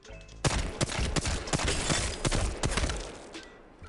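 Assault rifle fire in Apex Legends, about eight sharp, loud shots spaced out across roughly three seconds over a steady bed of game ambience.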